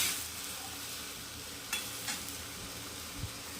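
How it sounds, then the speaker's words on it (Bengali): Bitter gourd, potato and onion fry in a pan with a steady, close sizzle, broken by a few brief stirring scrapes near the end. "এখানে হচ্ছে করলা ভাজা, করলা আলু পেঁয়াজ ভাজা হচ্ছে"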